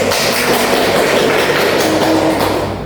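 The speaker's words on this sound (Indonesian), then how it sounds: "Kita beri aplaus dulu" A classroom audience claps steadily and densely, a loud continuous patter of many hands at close range that fades slightly at the end.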